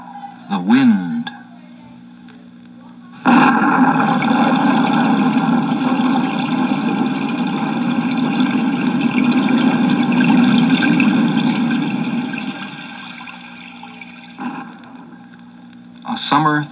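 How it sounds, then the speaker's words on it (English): A summer thunderstorm sets in as a sudden, steady roar of heavy rain that holds for about eleven seconds before easing off, framed by short, sharp bursts of sound at the start and end. "A summer thunderstorm."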